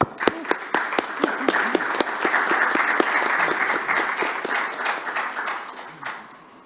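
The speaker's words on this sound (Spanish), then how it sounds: "les pido un aplauso para ellos" An audience at a panel on contemporary Spanish-language literature welcomes the moderator and speakers. A few crisp early claps quickly swell into full, even applause that holds steady, then tapers off toward the end.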